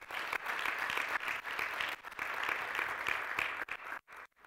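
A church congregation claps loudly and steadily during a fasting and prayer service, a dense wash of applause that carries on without a break and cuts off briefly near the end.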